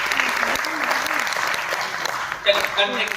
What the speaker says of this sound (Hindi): तो हम लोग तालियां भी कोशिश करते हैं कुछ रिदम करना है